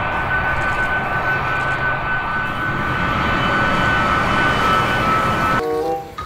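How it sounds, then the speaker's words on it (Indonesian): A large military Air Force plane's engines roar loud and steady for several seconds, a broad continuous drone with a faint whine on top, cutting off abruptly near the end. "Tuh ini adalah pesawat Air Force,"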